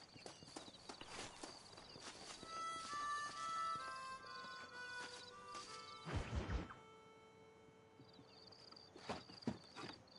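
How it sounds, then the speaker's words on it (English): Hooves clopping on the ground in Red Dead Redemption, with a sharp crash-like burst midway and quieter ambience after; no one talks. "That's not a horse that we can break."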